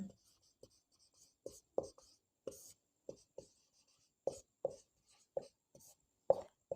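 Chalk or marker strokes scratch on a board during a classroom lesson, short distinct taps and scrapes in an irregular rhythm, close and fairly quiet.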